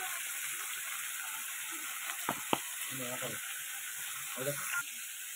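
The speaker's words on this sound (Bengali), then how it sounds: "এই যে সবজি সব ভাজা হয়ে গেছে" Vegetables seasoned with salt and turmeric fry in hot oil in a pan, a loud, continuous close sizzle with a couple of sharp stirring clicks and brief voices underneath.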